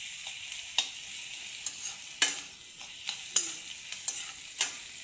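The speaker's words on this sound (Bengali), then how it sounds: "এখন আমি রসুন বাটাটা এর মধ্যে দিয়ে দিলাম। রসুনটাকে অল্প ফ্রাই করতে লাগবে।" Garlic paste frying lightly in a pan, a steady soft sizzle broken by a series of sharp spatula scrapes and taps at irregular intervals, close and fairly quiet, with no voices.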